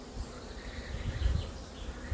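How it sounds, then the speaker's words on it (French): Honeybees fan their wings in a stressed, queenless hive, a steady low buzzing hum close by with a slight swell midway, no voices. "on voit des abeilles qui battent des ailes"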